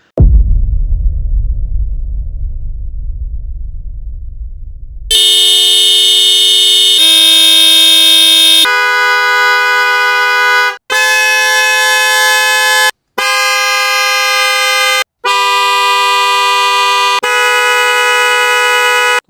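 Hella car horns sound in sequence, each a loud bright steady blast lasting one to two seconds with short gaps between, preceded by a few seconds of low rumbling.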